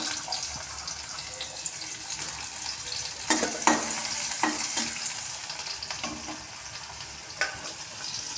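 Cumin seeds and chopped onion fry in hot oil with a steady broadband sizzle, broken by several sharp stirring scrapes and clinks of a spoon against the pan, with no talk.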